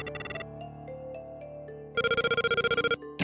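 Electronic telephone ring from the Portopia Serial Murder Case video game: a short melodic chime sequence, then a loud, rapid pulsing ring repeated about a dozen times in quick succession, with another burst starting at the end.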